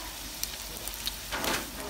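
Steady broadband crackle of crumbed whiting and tarwhine fillets frying in a pan, with a louder hissing swell near the end and a few brief pops.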